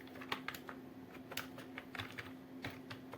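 Quiet clicking of a computer keyboard being typed on, a steady run of soft, close keystrokes with a faint background hum and no talking.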